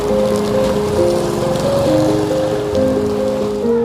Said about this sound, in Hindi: बारिश हो रही है और हम जा रहे हैं मस्जिद की तरफ और बड़ी ज़बरदस्त तेज़ बारिश है।